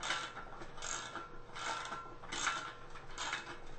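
A socket wrench ratcheting bolts onto the leg bracket of a hammock stand kit, a soft clicking ratchet in several repeated bursts at an even rhythm, faint and close, with no voices.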